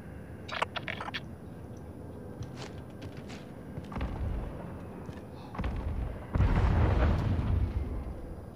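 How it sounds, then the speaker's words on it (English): Explosions go off in a Call of Duty: Warzone battle, several muffled booms and rumbling blasts at a distance, separated by sharp bursts, fairly faint throughout. "Explosions going off to our left."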